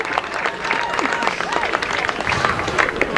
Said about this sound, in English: The fans are excited.